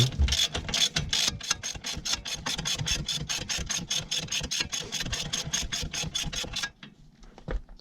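Wheel fasteners being tightened on a Toyota Camry during a brake pad and rotor job, a fast steady run of ratchet clicks up close that stops abruptly near the end, with no talk.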